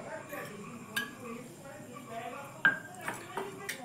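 A spoon stirs a thick flour and water batter in a bowl, with soft scraping and a few sharp clinks against the bowl's side, while someone talks over it.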